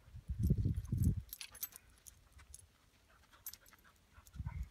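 Dogs pant softly inside a Jeep Renegade on a rough backroad, a short burst of breathing near the start and again at the end, with faint jingling and small rattles in between, quiet and close.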